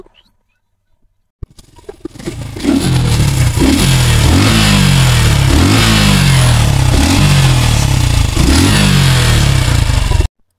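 A used motorcycle with about 7,159 km of genuine mileage, in good condition, starts up and runs loud and close, its engine surging through repeated rhythmic revs over a steady idle throb, with no talking.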